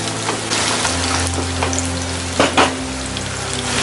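Cashews fry in hot oil in a pan for a vegetable pulao, a loud, dense, continuous sizzle close up, with a couple of brief stirring scrapes near the end and no talk.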